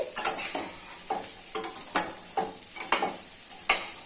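Cauliflower fries in a pan and is stirred repeatedly, so a steady sizzle is broken by about a dozen sharp scraping strokes in an uneven rhythm, close and fairly loud.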